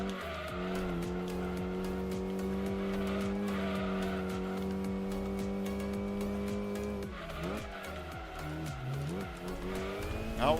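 Car tires squeal and skid steadily over a droning engine in the Gran Turismo 2 racing game, with a pitch bend near the end as the car slides.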